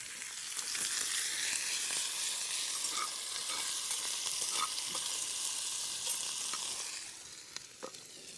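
Sausage and potato sizzle steadily in a camp fry pan outdoors, a continuous close crackling hiss with a few louder pops, easing off near the end.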